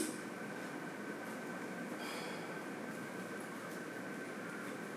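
A train rumbles beneath a house, a faint, steady low roar with a thin sustained tone, continuous and muffled, with no talking.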